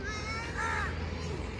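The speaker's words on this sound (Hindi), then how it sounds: "कौवा बैठा हुआ है बस।" A crow perched nearby gives a harsh, drawn-out caw that stands out clearly in the middle of the moment, heard close and fairly loud over a low outdoor background rumble.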